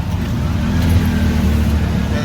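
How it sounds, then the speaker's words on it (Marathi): Auto rickshaw riding through jammed traffic in heavy rain, its low engine rumble steady and close throughout, with a voice talking over it. "चाललोय, रिक्षाने चाललोय."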